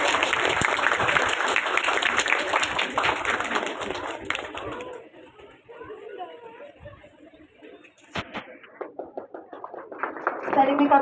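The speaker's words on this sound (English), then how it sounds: "Please give them a big round of applause." An audience at a school felicitation ceremony applauds spelling bee winners with dense clapping for several seconds, which thins out to a lull with scattered claps and faint sounds before a few claps return near the end.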